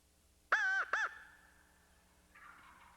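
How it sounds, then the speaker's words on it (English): A wild turkey gobbler near a swamp at the edge of pines lets out a loud, rattling gobble in two quick bursts. It is followed by quiet woodland air and a faint distant call. "there's a gobbler down there"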